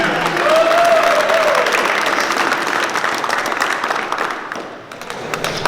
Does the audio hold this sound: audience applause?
yes